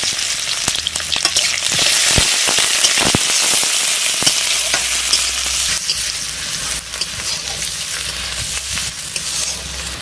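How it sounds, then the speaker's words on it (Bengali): Onion with ginger and garlic paste frying in hot mustard oil for a goat tripe and bottle gourd curry, heard as a loud, continuous close sizzle broken by sharp stirring scrapes. "পেঁয়াজ আদা রসুন ভাজা হয়ে গেছে"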